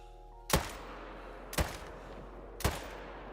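Three sharp, loud rifle shots fire about a second apart in a hunting video game, each with a short echoing tail over faint background ambience.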